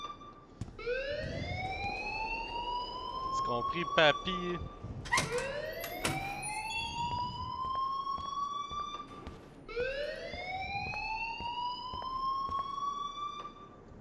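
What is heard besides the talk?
alarm ringing in the video game Life is Strange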